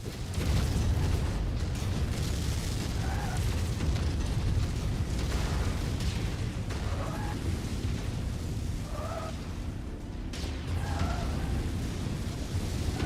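Incoming missiles explode around a mech in a BattleTech-style combat game, heavy booming blasts rolling over a constant loud rumble, with brief radio-like voice chatter breaking through now and then.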